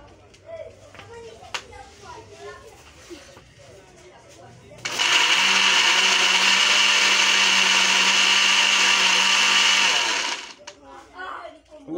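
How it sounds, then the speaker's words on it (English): A blender roars steadily for about five seconds, loud and constant, then cuts off, with quieter kitchen clatter before and after. "we first put a few pieces such that the blender is not overloaded."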